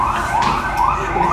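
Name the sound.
fire engine siren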